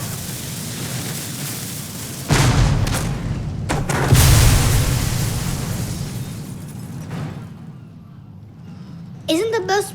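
Two heavy cannon booms fire in the Contrast video game, one at about two seconds and another near four, each with a long rumbling tail. A short burst of higher sound follows near the end.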